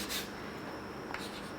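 Pen scratching across paper while working a math problem on a first-order linear differential equation, a faint, steady rubbing scribble with a brief stroke near the end, alone and quiet.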